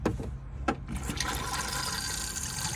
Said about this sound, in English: that pumps your flush fluid around